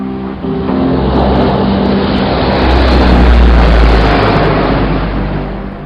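A C-130 Hercules propeller aircraft droning past, a deep steady roar that swells toward the middle and slowly eases, with no voices.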